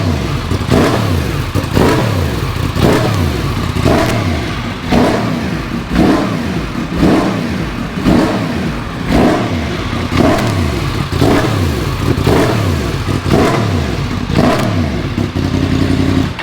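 Motorcycle engine fitted with Woolich Racetools running its auto warm-up routine, revving up and dropping back in a regular repeating cycle of roughly a dozen loud, close blips with no talking.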